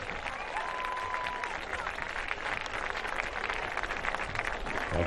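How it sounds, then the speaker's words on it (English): Outdoor crowd at a high school football homecoming game applauds the newly crowned homecoming court, a continuous wash of clapping from a large, fairly distant audience with faint voices underneath. "Give a round of applause for Braden and Violet."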